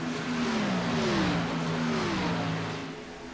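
Race car engines in sim racing at Las Vegas Motor Speedway, a steady droning whine with rising and falling pitch as cars pass, continuous and fairly loud before easing off.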